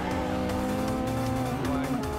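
A race car engine in the Initial D arcade racing game holds a steady high-revving drone near the redline, with tire squeal mixed into the dense, continuous mechanical roar.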